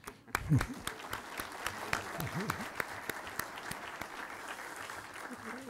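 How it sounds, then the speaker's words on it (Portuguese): Audience applause at a criminal-law seminar, continuous many-handed clapping at moderate level with some nearby claps popping out, and faint voices murmuring underneath. "a gente pode dar uma salva de palmas"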